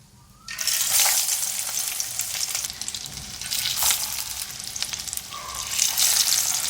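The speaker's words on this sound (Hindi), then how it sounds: "ये दूसरे वाले भी मैंने फ्राई के लिए डाल दिए हैं" Chicken shami kababs fry in hot oil with a loud, steady sizzle that starts abruptly and keeps going, full of fine crackles and a few louder bursts, close up with no talking.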